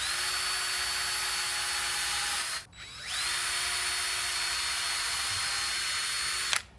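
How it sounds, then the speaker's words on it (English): Power drill boring holes in a wooden DIY desk: a steady high whine runs for a few seconds, stops briefly, then spins up again and runs until a sudden cutoff, close and loud. "So we're going to drill 2 holes down"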